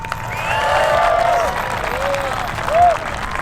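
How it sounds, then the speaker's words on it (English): Crowd applause and cheering for a drift motorsport team at a car show event, a brief burst of clapping under loud music with gliding tones and some voices mixed in. "So let's give a massive round of applause for Drift Games."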